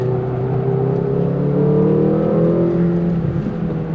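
A McLaren GT's engine pulling on the road as the driver gradually gets on the power, a steady rising drone heard from inside the car, no speech.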